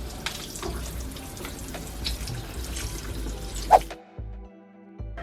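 Tap water runs and splashes as seafood is rinsed under it, with a clatter near the end before the flow cuts off to near silence.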